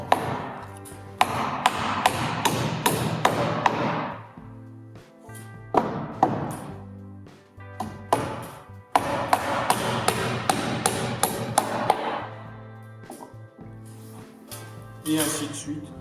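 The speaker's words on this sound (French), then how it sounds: "Et ainsi de suite, on les cloue tous une par une" Hammer blows drive nails into wooden roof boards of a garden shed during assembly, a fast series of sharp knocks in bursts with short pauses, close and loud, with a low steady hum underneath.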